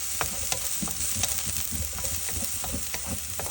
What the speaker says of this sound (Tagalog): Sangagin natin sa kunting mantika na coconut oil ang bawang at loya.